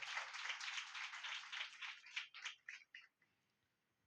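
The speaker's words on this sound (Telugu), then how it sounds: "మనం అందరం ఒకసారి దేవునికి గట్టిగా చప్పట్లు కొట్టి" A church congregation applauding together, with dense, loud clapping that breaks into scattered claps and then fades to near silence.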